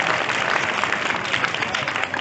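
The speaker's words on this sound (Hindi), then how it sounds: "स्टाफ के लिए और बच्चों के लिए भी जोरदार तालियां" Students and staff applauding at a school program, a brief burst of dense, loud clapping from a crowd.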